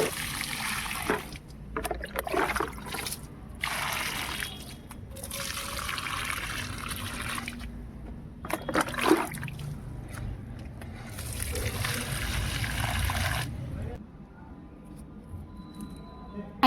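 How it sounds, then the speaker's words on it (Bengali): Plants on a sunny rooftop are watered, with bursts of pouring and splashing water that stop and start several times, close by, while a voice talks quietly now and then. "এই যে গাছে জল দিতে চলে এসেছি ছাদে"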